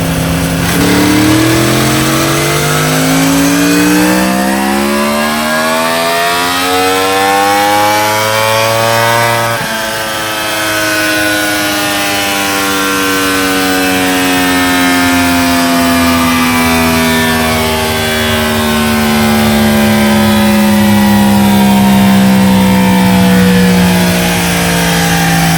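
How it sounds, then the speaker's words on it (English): A stock 2018 Yamaha R1M sport bike engine revs on a dyno, its loud howling note climbing steadily through a full-throttle pull, dipping briefly midway, then sweeping up again for a sustained, continuous run. "you're gonna jump on the bike and give us a stock dyno pull?"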